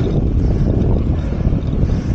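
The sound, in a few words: wind while cycling on a plateau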